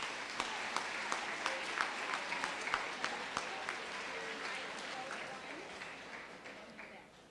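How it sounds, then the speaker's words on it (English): An audience at an 8th grade awards ceremony applauds, steady distant clapping heard faintly through a room microphone, gradually tapering off toward the end. "Let's give them all a big round of applause."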